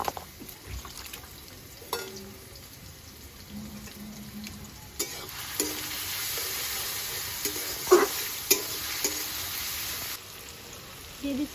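Greens and potato frying in hot oil make a faint hiss that grows into a soft sizzle partway through, with scattered clinks and light handling sounds nearby.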